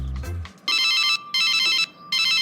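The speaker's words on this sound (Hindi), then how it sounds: "अरे किसका फोन आ रहा है? सुबह सुबह फोन आ जाता है।" An electronic phone ringtone trills in three loud bursts with short gaps between them, following a brief low rumble at the start.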